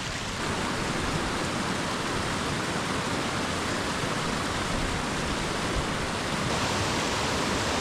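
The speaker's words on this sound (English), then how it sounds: "Judging by the amount of water that's coming down these trails" Broad, constant rushing of running water pouring down mountain trails in Snowdonia during a storm, steady and close with no pauses.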